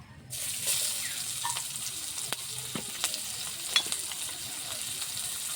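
Raw onion, garlic and cumin fry in hot oil, giving a steady close sizzle with scattered crackles and pops, while occasional stirring and light clinks sound against the pan.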